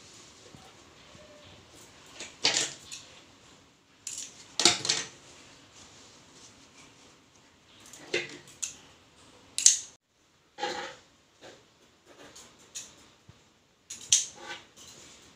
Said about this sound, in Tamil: இப்போ நம்ம சில்க் துணியில் நம்ம கட் பண்ண போகிறோம், பார்த்துக்குங்க.